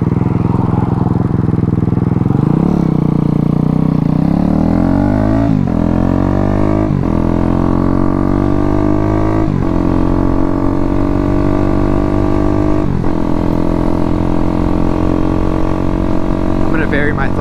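Small Daytona 212cc single-cylinder engine in a Grom-clone motorcycle, running loud and close with repeated throttle blips: the pitch rises and falls in several distinct swells over a steady rough idle.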